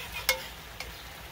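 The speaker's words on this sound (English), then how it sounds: "Scratching a pot, scratching a pot." A utensil scrapes a pot twice in quick, short strokes over a faint background hiss of round steak simmering in gravy.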